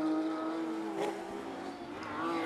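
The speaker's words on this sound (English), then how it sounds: "Just hear the blip of the throttle as they change down into that hairpin again" A Porsche Carrera Cup race car at Nuremberg gives a sharp throttle blip while downshifting into a hairpin. The engine note is loud, dips and rises, then climbs again near the end, with no talk.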